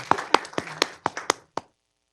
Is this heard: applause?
yes